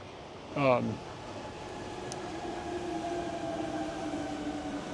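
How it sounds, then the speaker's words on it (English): A monorail inside an IKEA store glides past with a steady, moderately loud whir and hum that swells and holds throughout, after a short burst of voice at the start. "So the monorail goes right there"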